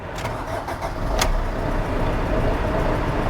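A Combo van bought cheap at auction, suspected of a worn engine, cranks briefly and catches, then settles into a loud, close, steady idle with a rough mechanical rumble.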